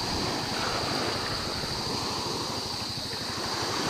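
Ocean surf whipped up by Typhoon Uwan: a dense, constant roar of crashing waves mixed with strong wind buffeting the microphone, loud and unbroken, with no voices.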